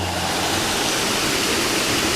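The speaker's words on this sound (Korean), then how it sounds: "명지 폭포입니다" Myeongji waterfall roars as a loud, steady broadband rush of falling water, close and continuous throughout without a break, heard on a mountain hike.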